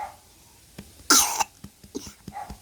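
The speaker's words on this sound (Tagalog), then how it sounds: "May ubo talaga siya" A baby with a cough gives a sharp, close cough during feeding, followed by soft breathy whimpers and little noises.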